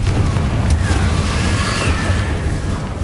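A Confringo spell blast in Hogwarts Legacy, a loud booming explosion with a rumbling low end that fills the whole moment, thick and continuous with game noise layered over it.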